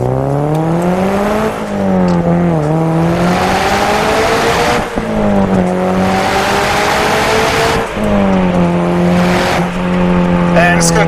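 A car accelerates hard on a test drive, its engine revving loud and close as the pitch climbs through several gear changes, with brief dips between pulls and light talk underneath.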